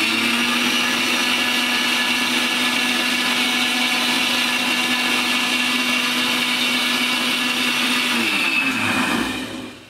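A blender emulsifies oil into mayonnaise with a loud, steady motor whine that runs without a break for about nine seconds, then winds down and stops, with no voices.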